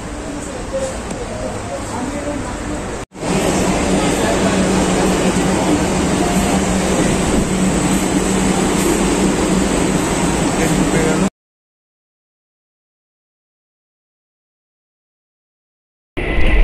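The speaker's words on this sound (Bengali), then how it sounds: "মেট্রোতে উঠলাম, মেট্রোতে কিন্তু যথেষ্ট ভিড় রয়েছে।" A crowded Kolkata metro train heard from inside the carriage after boarding at Shobhabazar: a loud, continuous rumbling roar lasting several seconds with a brief break, then abrupt silence before the noise returns.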